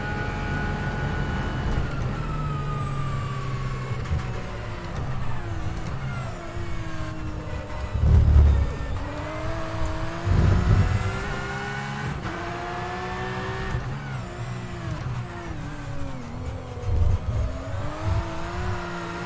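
A Porsche Cup race car engine in the rFactor 2 racing game drones steadily, rising and falling in pitch through gear changes and revs, with brief louder low surges.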